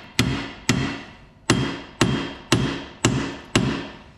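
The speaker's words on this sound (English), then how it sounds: "you can smack it from the end with the hammer" Seven sharp, loud hammer blows on a steel ball joint of a 2012 Dodge Charger front suspension, close by, falling in a steady rhythm about half a second apart, each ringing briefly before the next.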